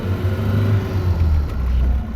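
A 1991 BMW E30 pulls away in first gear, its engine giving a low, steady rumble close by, heard alone for a couple of seconds.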